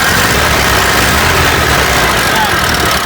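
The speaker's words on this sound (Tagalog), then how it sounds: "Pero pag ni-rev mo naman yan" Car engine that had been hard to start, loud and continuous, running close with a dense rough drone and steady vibration, no clear rise or fall in pitch across the short stretch.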